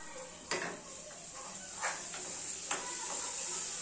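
Onion and tomato masala in oil sizzling faintly in a pan, with a few clinks and scrapes of a spoon against the pan at irregular moments, quiet and close, with no talking.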